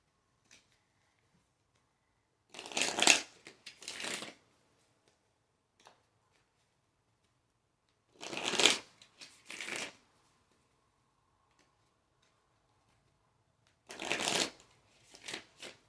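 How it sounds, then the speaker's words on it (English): Kali oracle cards shuffled in three separate crisp bursts of riffling, close by, with quiet pauses between them. "So let's pull some Kali cards."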